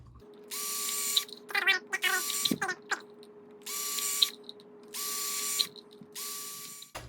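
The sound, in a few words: drilling holes in a plastic bottle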